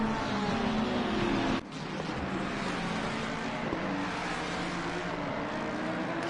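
Mustang and Lamborghini race cars in Assetto Corsa Competizione at Snetterton, engines straining in a steady, loud, sustained roar with a brief dip partway through, no talk.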